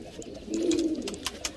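High flyer pigeons coo in a low, rolling murmur that swells in the middle of the clip, with faint chirps and background noise around it.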